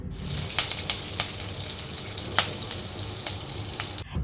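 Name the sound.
tempering of mustard seeds, sesame, urad dal, cumin, curry leaves sizzling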